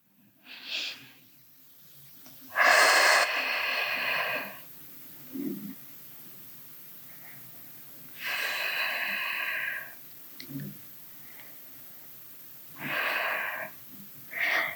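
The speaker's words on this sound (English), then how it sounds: "Inhale and exhale." Several forceful exhaled breaths come at intervals during a reformer-based Pilates core workout, each a noisy whoosh lasting one to two seconds, close to the microphone, with quieter short breaths between them.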